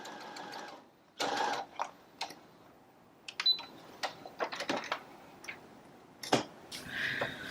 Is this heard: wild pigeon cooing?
no